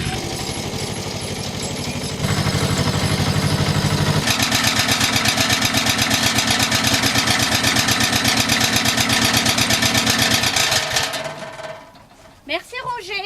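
A small mobile garden tractor runs with a loud, close, rhythmic engine chug that steps up in pace partway through and then fades out near the end, with a voice heard briefly after.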